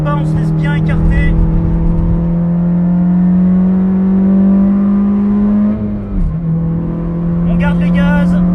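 A Honda CR-Z race car engine at full throttle on the Lédenon circuit drones at high, steady revs for several seconds, dips briefly as if shifting, then holds again, with brief voice-like bursts at the start and end.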